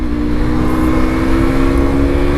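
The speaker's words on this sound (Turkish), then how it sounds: "Abi egzozsuz motora da binilmiyor ya." A Yamaha R25 motorcycle engine runs without an exhaust, loud and close with a steady, raspy drone and a constant hum for the whole stretch.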